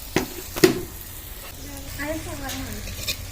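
Green onion leaves hit a hot pan of cooking onions and chili for a Gujarati green onion curry, giving a steady sizzle with a few sharp clatters, while a voice talks faintly in the background.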